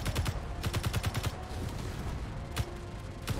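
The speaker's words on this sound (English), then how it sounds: "There's a lot of explosions everywhere." Gunfire in the Space Engineers video game, rapid bursts of sharp repeated shots, then a quieter stretch and a few more loud impacts near the end.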